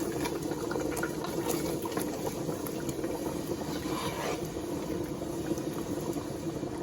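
A pot of pasta water boils vigorously with a constant bubbling roil, close by and steady throughout.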